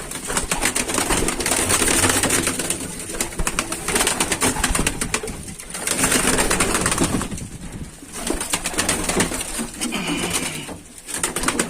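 Young Mardin Turkish pigeons fluttering and flapping their wings in repeated bursts, with soft cooing mixed in, close and fairly loud, no one speaking.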